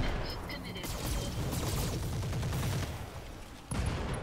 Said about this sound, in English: I feel more like a Jaeger mech now with the double AC-5s blasting away.